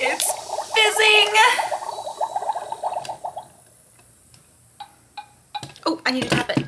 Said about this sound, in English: It's fizzing!